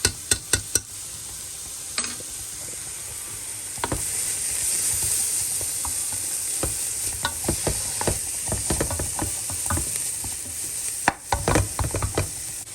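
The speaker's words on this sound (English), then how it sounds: "We're going to just keep on sauteing this for about another minute." Minced garlic sizzles steadily in a soup pot. A spoon stirs and knocks against the pot in clusters of sharp clicks, most heavily at the start and again in the second half, with no speech.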